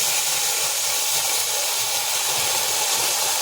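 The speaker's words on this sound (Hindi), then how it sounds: "ये देखिए थोड़ा दूध डाल रहे हैं, ज़्यादा नहीं डालेंगे" Milk hits hot kimami syrup for sewai in a pan, giving a loud, steady sizzling hiss that holds evenly without a break.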